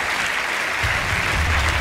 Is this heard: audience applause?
yes